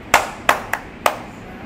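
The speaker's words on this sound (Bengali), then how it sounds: "তুমি নিজে একটু হাততালি দাও" A child claps hands four separate times at an uneven pace, each clap sharp, close and distinct, with quiet gaps between them and no voices.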